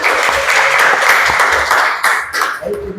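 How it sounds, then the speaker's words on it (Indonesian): A room of people claps together at a school session in SMAN 1 Manggar, producing a dense, fairly loud burst of applause that thins out near the end. "Oke, tepuk tangan."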